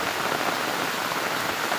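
A small village waterfall swollen after rain gives a dense, even rush of water, close and constant, with no voices.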